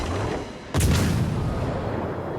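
A high-caliber naval gun fires once in a World of Warships Legends battle, a single loud, broad boom that rolls on under steady battle noise with no talking.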